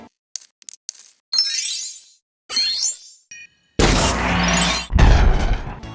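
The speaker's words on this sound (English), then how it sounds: "in smashing bricks and collecting studs, and the sound effects" LEGO video game effects: short plastic brick clicks and rattles, then bright shattering smashes of bricks and cascading chimes of studs being collected, loud, close and in quick succession.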